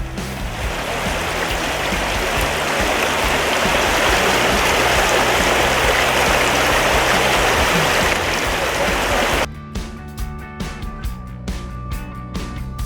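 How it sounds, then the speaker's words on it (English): A mountain brook trout stream in West Virginia rushes steadily, a loud, continuous broadband water flow that cuts off abruptly near the end, leaving quieter background sound. "Now this is a stock stream, one of dozens of streams in the state of West Virginia"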